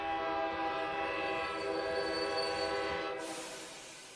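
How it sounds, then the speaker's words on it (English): A train horn from the video game Girls' Frontline 2 blares in a long, loud, steady harmonic tone for about three seconds, then cuts off into a hissing, fading rumble. "The train horn suddenly blares. A train lurches and rapidly slows"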